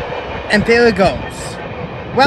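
A passing freight train hauled by a locomotive (Veterans Unit 3015) rumbles steadily with a brief horn-like tonal swell, while someone talks over it nearby.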